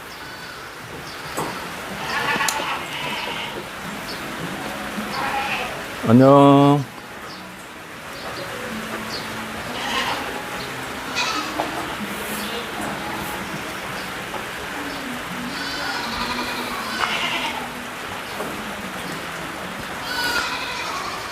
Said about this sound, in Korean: 염소 전시장 내에 있는 염소들입니다.